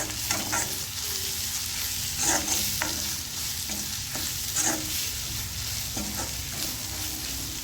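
A spicy onion and potato filling with amchur powder for Jodhpuri onion kachori is stirred in a pan, steady scraping strokes and soft sizzling repeating through the clip, with no talk.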